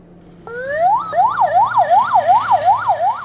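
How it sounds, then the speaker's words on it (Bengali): An ambulance siren on a Dhaka street in Purba Rajabazar starts suddenly with a rising wail, then switches to a fast, loud, repeating up-and-down yelp that continues to the end. "করোনার এই মহামারীর সময়ে শব্দ তুলে অ্যাম্বুলেন্সের চলাচল যেন নিত্যদিনের ঘটনা"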